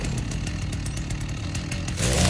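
A chainsaw cutting wood in the video game Rust, a buzzing motor with rapid rhythmic chatter that surges louder and heavier near the end as it bites in.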